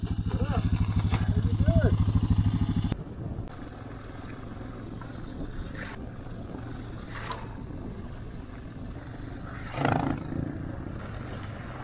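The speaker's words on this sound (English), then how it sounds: "here comes some guys. Another bikes, more bikes." Motorcycles on a dirt road in the Wyoming mountains pass close with a loud, buzzing engine drone for a few seconds, then fade to a faint background hum while a man greets the riders.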